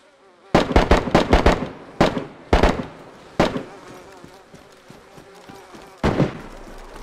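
A rapid burst of sharp gunshots in the video game DayZ, then a few more scattered single shots over faint background noise, loud and close.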